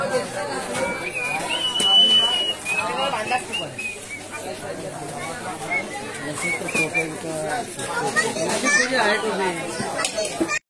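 A dense crowd of pilgrims on the stairs of a hilltop temple at Karla, Lonavala, a steady murmur of many overlapping voices with children's calls and bird chirps, close talk running over it throughout.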